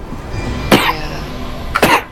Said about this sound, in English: I just had to cough when I moved away from the mic and then cough again.